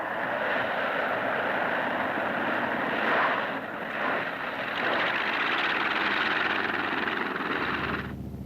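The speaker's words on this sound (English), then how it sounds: "This model of the L-19 is at home either on water or on the land." An Army L-19 light aircraft fitted to work from water or land drones with a steady engine hum and propeller roar. It stays fairly loud throughout and changes abruptly near the end.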